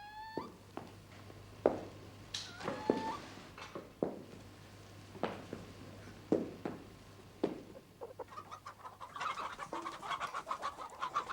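Startled chickens on a perch cluck and squawk in short bursts, several birds agitated at once, with sharp calls scattered over a quiet background.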